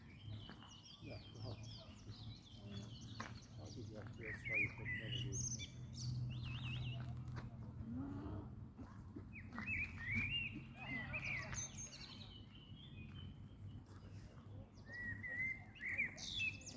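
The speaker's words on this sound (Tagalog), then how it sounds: "Tapos yung ibon kumakanta habang ako nagtitake ng video." Birds singing outdoors at dusk as darkness falls, with repeated bright chirps and short warbling phrases that come and go over a low steady hum.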